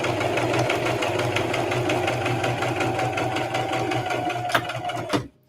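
A sewing machine stitches the top of a keychain wallet in a fast, even mechanical chatter, steady and close, then slows with a couple of clicks before stopping abruptly into silence.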